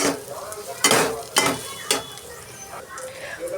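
A spoon scrapes and stirs chili powder through a dish in a pan, giving a few loud scraping strokes over a soft sizzle, close and uneven.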